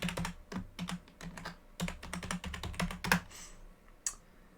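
Rapid clicking keystrokes on a computer keyboard as a password is entered, quick bursts of close, crisp taps with brief pauses, ending in a single harder key press, no voices.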